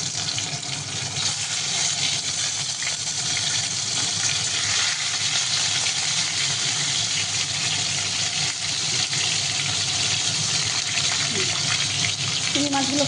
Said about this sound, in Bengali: প্রথমে তার জন্য চিংড়ি মাছগুলোকে ভেজে নেব।